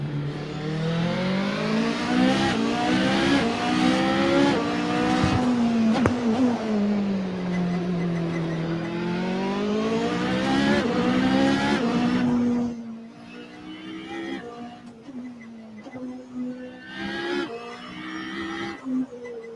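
Hybrid race car heard from the onboard view in a sim racing game, a loud continuous engine note with rising and falling pitch through gear changes, dropping to quieter, choppier engine sound near the end.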